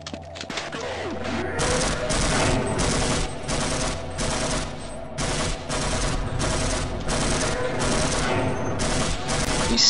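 Sustained automatic gunfire from the video game Half-Life, loud, dense bursts of rapid shots repeating throughout with brief gaps, a continuous barrage of firefight sound.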